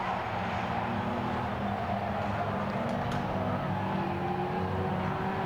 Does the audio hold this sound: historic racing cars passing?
yes